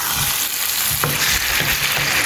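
Prawns and potatoes fry in a pan over a high flame, giving a loud, steady sizzle with a few soft stirring knocks and no voices.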